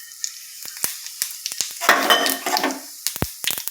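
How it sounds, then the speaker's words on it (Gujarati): Cumin seeds hit hot mixed ghee and oil for a dal fry tempering, giving a sudden burst of sizzling mid-way amid scattered sharp clicks and pops, close and fairly loud. "ગરમ થઈ ગયું છે તો આપણે જીરાથી વઘાર કરશું એનો।"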